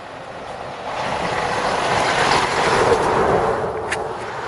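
A freight train made up of oil tanker cars rolls past close by at an oil palm plantation, a loud continuous rumble and rushing roar that swells and eases slightly, with no voices.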